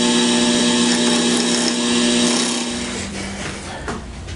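A wood lathe spins a cocobolo pen blank mounted on slimline pen bushings, a steady high motor whine with tonal hum, easing slightly in the second half as the cut changes.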